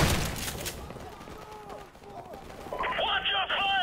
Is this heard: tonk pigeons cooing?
no